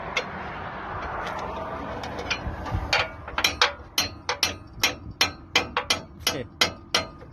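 Work on a Ford Crown Victoria's brake caliper bracket: a quick run of sharp metallic clicks and taps from hand tools, close and fairly quiet, growing into a steady rhythmic series of ratcheting strikes.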